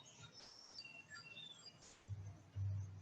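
Faint, scattered bird chirps and tweets against a quiet outdoor background, with a low rumble rising near the end.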